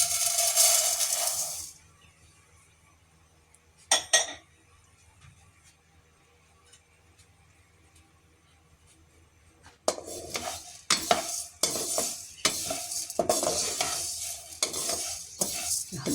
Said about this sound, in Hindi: हल्के से घी में इसको ऐसे रोस्ट कर देंगे हम, हल्की आंच पर।